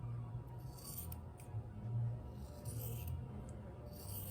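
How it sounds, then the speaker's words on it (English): Scissors cutting felt into a triangle for a craft hat: soft, faint snips and rasping slides in a few short bursts, close, over a quiet background hum. "And then I'm going to cut it into a triangle"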